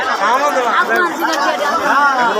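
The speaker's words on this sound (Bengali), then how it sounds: "প্রচুর মানুষের ভিড়, এখনো মানুষ প্রচুর" A large crowd chatters at a busy cattle market in Dharmapasha, Sunamganj, Bangladesh, producing a dense, steady babble of many overlapping voices that stays close and loud throughout.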